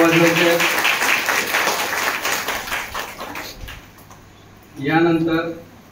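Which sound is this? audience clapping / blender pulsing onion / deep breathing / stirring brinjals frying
audience clapping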